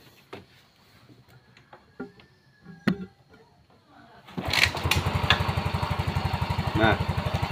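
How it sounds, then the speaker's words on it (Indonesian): A motorcycle engine cranks over after a few faint clicks and knocks, then catches and runs at a steady, loud, close putter with even rapid pulses, recently restored after a starting fault. "kemudian kita hidupkan motornya. Motornya sudah mau hidup dengan normal ya."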